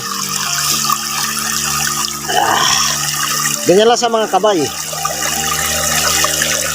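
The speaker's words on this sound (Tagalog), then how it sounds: "lalagyan natin ng tubig" Water poured from a container into a plant pot while tending vegetable seedlings, a brief gushing pour of about a second close by, with a person talking before and after.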